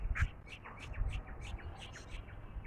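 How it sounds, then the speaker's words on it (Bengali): Birds call in spring around a rooftop garden, a quick series of faint, bright chirps and short repeated notes over a soft outdoor background, with a cuckoo among them and no talk. "বসন্তকাল তো আশেপাশে কোকিল ডাকছে। বিভিন্ন রকম পাখিও ডাকছে।"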